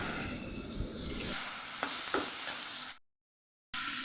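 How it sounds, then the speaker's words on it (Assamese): Pork with blended fried spices being stirred and fried for a pork-with-sesame dish, a steady close sizzle with scraping stir strokes, briefly cutting out to silence before resuming. "মই কিছু সময়ৰ বাবে এইখিনি ভালদৰে মিলাই ভাজি ল'ম"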